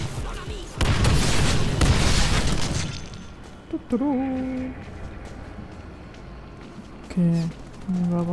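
A loud explosion in the Deadpool video game starts as a sustained roaring boom of blasts and debris, then fades, followed by short electronic game tones and chimes.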